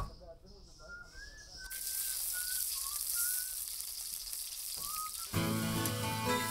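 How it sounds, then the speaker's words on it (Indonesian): Ground paste of shallot, garlic and turmeric sautéing in a pan, a bright steady sizzle that swells after a quieter start, with a voice talking over it and a loud burst of frying near the end. "Bumbu halus tadi selanjutnya ditumis hingga harum dan bumbu berubah warna."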